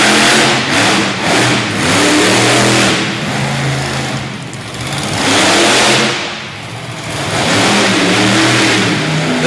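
A monster truck called Taurus roars through a freestyle run in the Topsfield Fair Arena, Massachusetts, its loud engine revving hard in repeated surges and dips, with no talk over the sustained, close-up growl.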